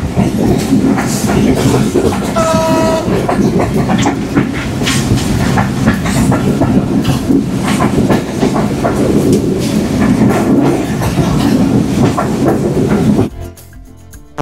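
A train pulls into Joypurhat railway station in Bangladesh, loud, close and continuous, with steady wheel rumble and clickety-clack over the rails and a brief high squeal, then cutting off abruptly near the end.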